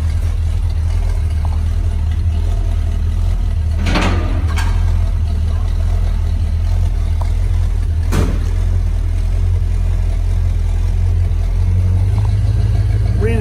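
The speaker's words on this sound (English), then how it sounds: "Engine sounds good" A 1964.5 Ford Mustang convertible's engine runs loud and steady close by after a cold start, a constant low rumble with a couple of brief bumps and clatters over it.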